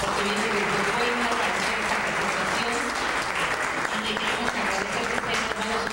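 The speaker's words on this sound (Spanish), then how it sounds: "pues por un aplauso para el doctor, porque viene de Puebla." An audience at an academic book presentation applauds loudly and continuously, a dense steady wash of clapping with voices murmuring beneath it.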